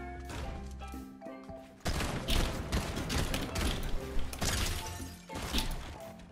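Gunfire in the video game Fortnite: loud bursts of shots and crashing impacts follow a quieter opening, with several sharp cracks clustered through the rest of the stretch.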